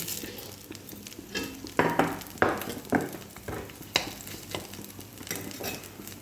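Dried red chillies and mustard seeds frying in oil in a pan, with a steady low sizzle broken by close, irregular scrapes and clatters of stirring across about six seconds.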